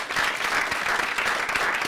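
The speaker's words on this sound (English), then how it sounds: "Maureen should get the biggest applaud, I think." An audience at a lunchtime talk in the Garden of Reflection gives a short, lively round of applause, close and full, with dense overlapping claps that never let up.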